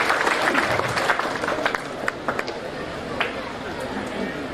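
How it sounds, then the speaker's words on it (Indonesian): A congregation at a church blessing Mass in Tanjung Enim claps for the regent, sustained lively applause filling the room with scattered sharper claps and faint crowd murmur beneath. "Mari kita beri tepuk tangan sekali lagi yang meriah"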